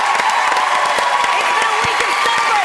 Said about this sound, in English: can we give Emma a massive round of applause for that Brit Award this week